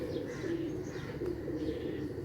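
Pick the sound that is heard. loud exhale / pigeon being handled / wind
pigeon being handled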